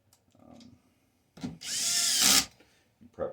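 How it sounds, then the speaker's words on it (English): A short burst of a power drill whirring for under a second, close and loud, between quiet handling noises while assembling a LiFePO4 battery bank. "I go after the drill"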